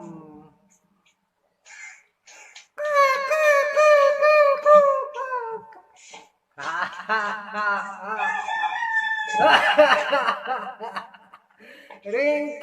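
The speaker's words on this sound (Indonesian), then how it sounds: "Ringtone setan ayam." A rooster-crowing ringtone plays, with harmonic crowing calls in bursts separated by short pauses, loud and close, mixed with chuckling sounds.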